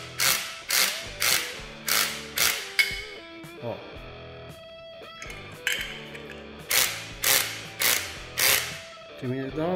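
A ratchet torque wrench tightens a bolt that joins metal tubes, giving close, sharp ratcheting clicks in regular bursts with short pauses and a brief metallic ring in the middle.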